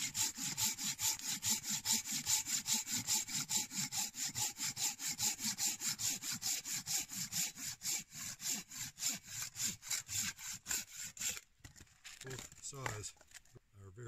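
Hand saw teeth cutting steadily through wood in a long run of quick, regular strokes, close and loud, then a few slower, ragged strokes near the end.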